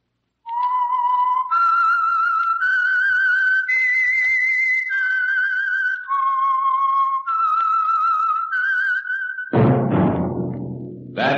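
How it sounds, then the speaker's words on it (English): A clear whistled melody of sustained, steady notes stepping up and down, loud and close, ending in a burst of broader sound. "That whistle is your signal"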